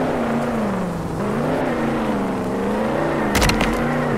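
Simulated car in the Roblox game Jailbreak drifting, with a steady, droning engine tone that rises and falls in pitch, plus a brief burst of screech near the end.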